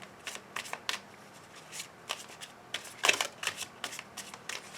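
A deck of cards shuffled and cut for a reading, repeated riffling flutters and soft slaps in short irregular bursts, close and moderately quiet.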